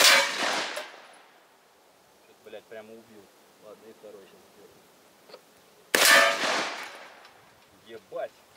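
Full metal jacket bullet striking a Kolpak helmet, two loud sharp impacts several seconds apart, each ringing off into a decaying tail, with brief talk in between.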